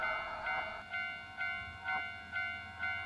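A railroad crossing bell in the horror game Shin Tsugunohi clangs in an even repeating rhythm, about two strikes per second, ringing with a metallic tone against a quiet background.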